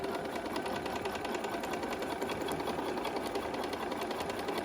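Sewing machine runs steadily while stitching a seam on a quilt block, a close, fast, even mechanical whir with rapid needle ticks that continue alone without pause.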